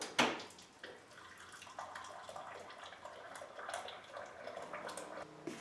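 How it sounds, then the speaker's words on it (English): Hot water being poured into a teapot, a continuous splashing, trickling flow that begins with a sharp onset and runs steadily at moderate level to the end, with no voices. "Alright, as you can see, I filled it with water."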